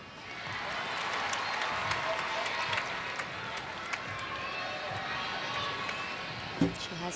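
Arena crowd at the 2016 U.S. Olympic Women's Gymnastics Trials all-around final, with teammates cheering a gymnast through her routine; a steady, broad wash of cheering and applause runs throughout, with a short sharp burst near the end.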